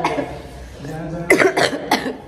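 Three loud, abrupt coughs from one person close by, coming in quick succession near the end after a stretch of quieter indoor background sound.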